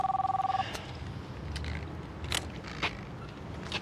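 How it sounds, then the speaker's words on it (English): Telephone ringing in a crime drama scene: a short electronic double-tone ring at the start, fairly clear, followed by faint room noise and small knocks with no speech. "Phone's ringing."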